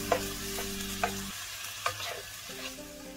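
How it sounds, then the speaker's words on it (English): Prawns for a Jaffna-style Sri Lankan curry are stirred in a pan, a soft steady sizzle with a few sharp spoon scrapes and knocks against the pan, close and without talk. "Add the prawns. Give everything a good stir."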